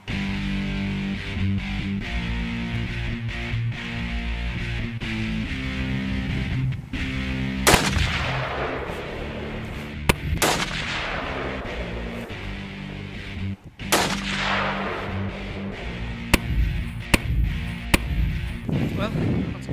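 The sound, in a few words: hunting rifle gunshots at target practice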